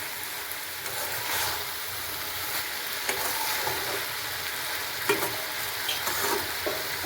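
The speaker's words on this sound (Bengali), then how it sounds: "আলু ভাজাগুলো ভালোভাবে নেড়ে দিয়েছি।" Fried potato pieces with shredded ginger and chopped green chili being stirred in a hot pan, a steady sizzle broken by scraping spatula strokes and a few sharper knocks against the pan, close and with no talking.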